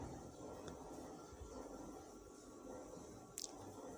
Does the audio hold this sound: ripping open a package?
no